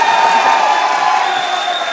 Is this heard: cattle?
no